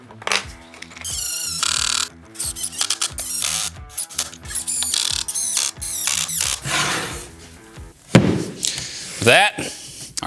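A driver sends pocket screws into the cross pieces of a wooden workbench frame, making rapid, loud ratcheting bursts in a regular rhythm for several seconds, followed by clunks, while someone speaks.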